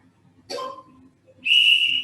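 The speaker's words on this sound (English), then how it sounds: "We're going to get whistled in and beeped in as we go" Two short, shrill whistle blasts signal the start of an exercise in an exercise class, the second longer and steadier, with quiet gaps around them.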